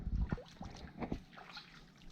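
Water trickling and sloshing at a natural spring source in Florida, soft close burbling with small splashes and dribbles that fade gradually over a couple of seconds.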